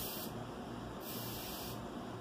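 A refillable aerosol spray can, holding only compressed air, lets out a steady hiss of air with no other sound, in two bursts separated by a short dip at about one second.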